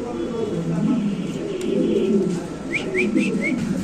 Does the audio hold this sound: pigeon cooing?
yes